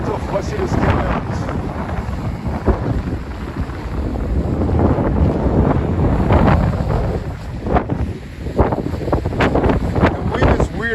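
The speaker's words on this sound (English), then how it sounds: "The wind is weird here, really weird now." Gusty wind on a street of Vasilyevsky Island in St Petersburg, buffeting the microphone in loud rumbling bursts that rise and fall continuously.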